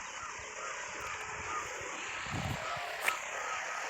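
A helicopter starting up at an outdoor event site during a visit by the Home Minister, heard as a steady broadband rotor and engine roar that holds throughout under crowd noise and wind, with a brief sharp burst near the end.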